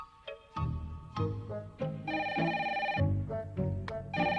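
Cartoon telephone ringing in repeated bright electronic bell bursts, loud and close, with no talking over it.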